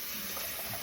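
Tap water rushes into a container as it is rinsed out, a brief, steady broadband splash with no voices.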